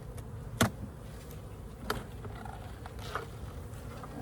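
Honey bees in a hive being inspected after winter make a soft, faint buzzing beneath quiet background noise, with a few brief louder knocks or taps.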